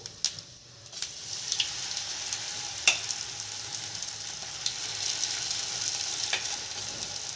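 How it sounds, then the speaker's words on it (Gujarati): Semolina batter with fresh curry leaves sizzles steadily in a pan for a handvo-style breakfast, a continuous close frying hiss with a few sharp clinks and pops, and no talking. "લીમડાના પાન એડ કરી અને પછી આવા આપણે 2 થી 3 ચમચા ખીરું નાખી દેશું."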